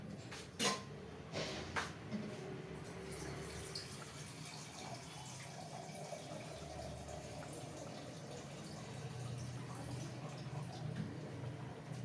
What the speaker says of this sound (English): along with that I'll pour another cup of water